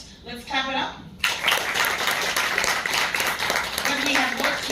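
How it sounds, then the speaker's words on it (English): Audience at an inaugural health summit breaking into sustained clapping after a speaker's voice, a steady rattle of many hands with voices heard faintly over it. "Let's clap it up."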